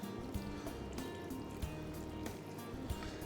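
Filtered water poured into a blender jar as the last ingredient of a kale smoothie, a steady close splashing fill that runs continuously without speech.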